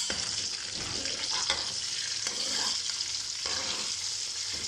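Green chillies fry in hot oil with a steady, close broadband sizzle and occasional stirring scrapes, with no voices over it.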